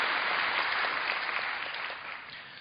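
A church congregation claps in thanks to the choir, a dense, steady round of applause filling the hall and tapering off toward the end.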